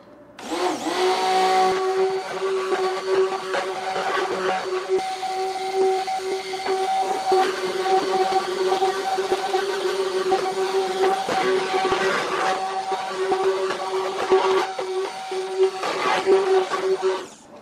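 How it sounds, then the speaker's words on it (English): Stick blender running continuously for about sixteen seconds, a steady high-pitched motor whine with small shifts in tone as it stirs, loud and close, no voices. "Get my stick blender out of the way just for a second."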